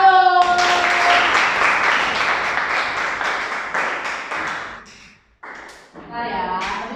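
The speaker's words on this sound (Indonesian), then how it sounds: "Ya, tepuk tangan dulu." A classroom of students claps together during an ice-breaking activity, a burst of fairly close, rhythmic hand clapping that stops abruptly, followed by a brief pause and then a teacher's voice talking.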